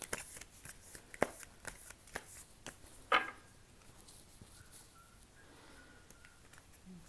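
Tarot cards are shuffled in soft, quick riffles and taps, close and quiet, with occasional sharper flicks and no talking.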